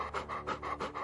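A female dog on a leash pants heavily and rapidly close by, about five quick breaths in just over a second, with no voices.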